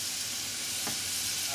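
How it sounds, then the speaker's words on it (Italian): Chopped leek sautéing in melting butter in a pan for an Easter lunch, an even close sizzle with a brief stir partway through, no voices. "il nostro burro si sta sciogliendo, quindi possiamo anche già inserire il nostro porro, che facciamo praticamente rosolare un po'"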